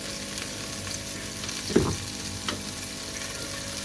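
Potatoes and fenugreek frying in a pan with turmeric and other spices for aloo methi sabzi, giving a constant close sizzle with a couple of soft stirring knocks near the middle and no voices.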